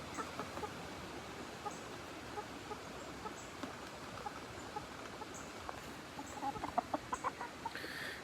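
Soft, scattered clucking from chickens over a steady background hiss, with a short burst of quicker clucks near the end.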